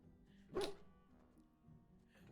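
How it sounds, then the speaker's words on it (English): A war hound in the video game Dragon Age Origins barks once sharply, then again briefly at the end, both quiet over a soft background hum. "More barking, spinning around in place."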